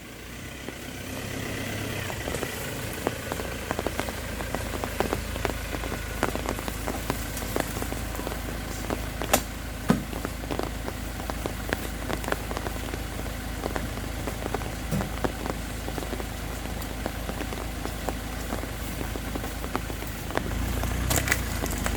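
Steady heavy rain patters on the surface around Ford Ranger and Toyota Revo pickups hauling oil palm on a palm plantation, a dense continuous hiss with scattered louder drops and a low engine idling underneath throughout.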